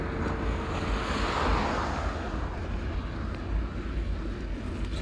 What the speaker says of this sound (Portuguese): Ainda mais contra o vento.